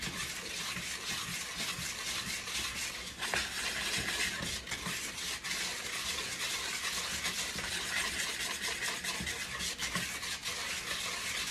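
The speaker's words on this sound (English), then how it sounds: "we're gonna grab a whisk and just start mixing this" A whisk scrapes and stirs dry bath bomb ingredients in a bowl, a continuous gritty rubbing and rasping that stays steady and close for the whole stretch without talking.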